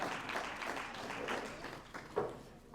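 Audience applause at the Stone Soul Legacy Awards 2024, a steady wash of many hands clapping through the whole stretch with a louder swell near the end, no voices over it.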